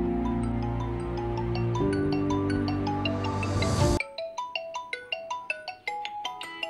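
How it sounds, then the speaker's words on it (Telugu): A phone rings with an incoming call, a melodic ringtone playing a sustained chord passage and then a bright run of repeated electronic notes, fairly close and with no voices. "ఈ టైంలో ఫోన్ చేస్తుంది?"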